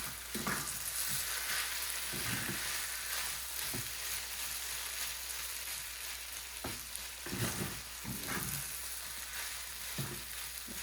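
Grated potato chevdo sizzles steadily in hot oil over low heat, with a spoon scraping and stirring through it in short bursts every second or so.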